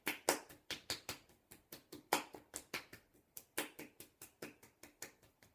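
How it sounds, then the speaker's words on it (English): Bare hands clap against the thighs in a steady series of roughly two dozen crisp, close slaps, each sharp strike quickly fading, with no talking over them. "Clap onto your leg."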